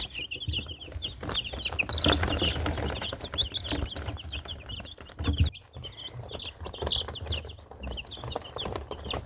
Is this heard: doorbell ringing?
no